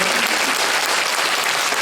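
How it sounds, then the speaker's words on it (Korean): An indoor audience at a school concert bursts into dense, steady clapping for the teachers, a loud and continuous wash of applause throughout. "손든 선생님들 향해서 박수!"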